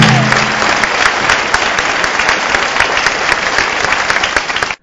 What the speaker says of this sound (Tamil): இசை முழக்கம் முடிந்ததும் கைத்தட்டல் அரங்கையே அதிர வைத்தது.